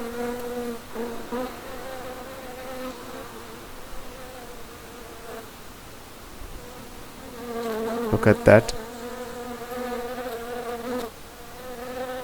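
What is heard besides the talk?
honeybees buzzing while collecting nectar from flowers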